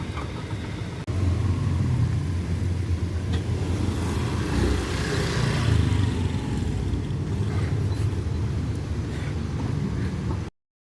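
A Honda motorcycle engine runs steadily during an ABS braking demonstration at a vocational school, a constant mid-pitched drone lasting about ten seconds before cutting off abruptly, with no talking.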